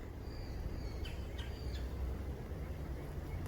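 A bird calls outdoors in a garden with potted plants, a few thin chirps rising faintly over a steady low rumble of background noise.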